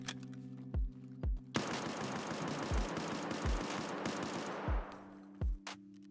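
Shots from an SKS rifle in a video game, single reports fired one after another at uneven intervals over a steady background hum, loud and close, with no talking.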